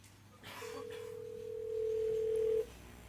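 A telephone ringing tone on a Google Duplex call booking an appointment: one steady, even tone lasting about two seconds, fairly faint, over a quiet line.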